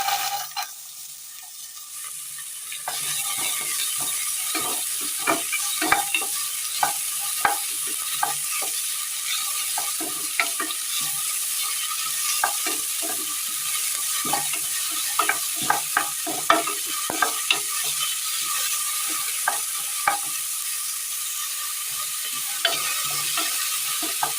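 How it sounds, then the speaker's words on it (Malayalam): Chopped carrot is stirred into hot coconut oil where mustard seeds crackle, giving a loud steady sizzle broken by many sharp pops and scraping stir noises, with no talk. "കടുക് പൊട്ടി വരുമ്പോൾ ക്യാരറ്റ് അരിഞ്ഞത് ഇട്ട് കൊടുക്കാം"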